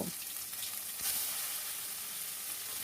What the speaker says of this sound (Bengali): তেলটা গরম করে নিয়ে এবার বাটাটা এর মধ্যে দিয়ে দেব